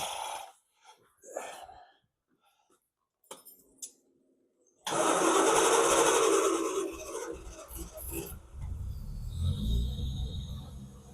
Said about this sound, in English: It's a bit lumpy. Carburetors all need setting up properly, but it is running.